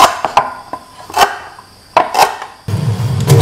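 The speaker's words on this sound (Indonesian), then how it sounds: "Potong serai kecil-kecil." Lemongrass is chopped into small pieces, a few sharp knife knocks on a cutting board spaced irregularly, close and crisp, followed by a short stretch of rustling noise.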